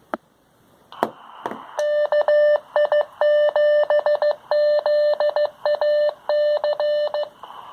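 Morse code sent over a ham radio comes through a speaker as loud, steady tone beeps in rapid dot-and-dash groups, following a few sharp clicks at the start.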